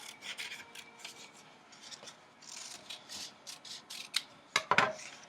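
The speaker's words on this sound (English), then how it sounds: "Then I take my other part of my paper and I'm going to make a triangle on the end of it. And then I'm going to cut my triangle out." Scissors snip through paper to cut out a triangle shape, giving a run of short rasping cuts that grow sharper and louder toward the end, close up with no talking.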